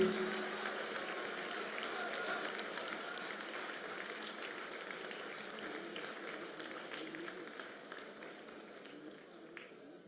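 Audience applause welcoming a guest at a seminar in Bhopal, a sustained, fairly distant wash of many hands clapping that slowly fades over ten seconds.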